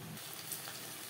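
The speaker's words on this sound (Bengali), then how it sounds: "ভেন্ডি ভাজা হয়ে গেছে।" Okra (bhindi) frying in a pan for a dahi bhindi dish, a soft continuous sizzle heard up close with light stirring, quiet and even, ending in a sharp brief clatter.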